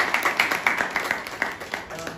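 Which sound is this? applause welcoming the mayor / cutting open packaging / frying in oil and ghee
applause welcoming the mayor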